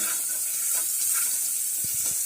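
Steady high-pitched sizzling of onion, tomato and garlic tempering frying in hot oil, continuous and fairly loud, with a few faint clinks near the end.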